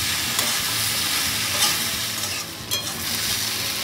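Crispy honey chicken is stirred and tossed in a hot pan with extra honey, giving a steady sizzling fry with scraping stir strokes, loud and close, with no talking.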